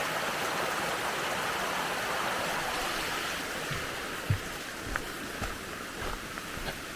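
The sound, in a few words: small creek and little waterfall flowing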